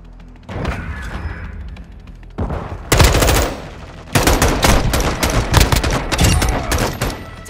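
Automatic gunfire in Call of Duty Mobile, a short burst followed by loud sustained rapid-fire volleys, close and dense with overlapping shots.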